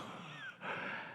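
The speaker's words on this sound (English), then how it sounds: "you'll start to gasp." A voice gives a single breathy gasp, as if suddenly understanding something, fairly faint and close, with no other sound around it.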